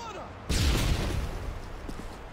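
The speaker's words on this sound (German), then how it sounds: "weil er Schüsse abgefeuert hat." Gunfire in the video game Call of Duty Modern Warfare 2, a sudden burst of shots and rumbling booms that fades to a lingering rattle, with no talk over it.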